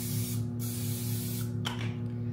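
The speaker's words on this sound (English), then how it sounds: "I use just olive oil spray." Olive oil spray hisses steadily from a can onto spaghetti squash, a close continuous spray over a low background hum.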